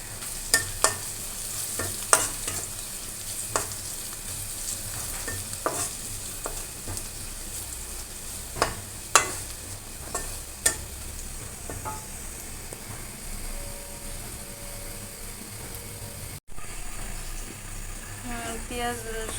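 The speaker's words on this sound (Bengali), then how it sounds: "পেঁয়াজ রসুন ভাজি হয়ে গেছে" Onion and garlic fry in a pan with a little turmeric, a soft steady sizzle broken by scattered stirring clicks and scrapes, close by and fairly quiet.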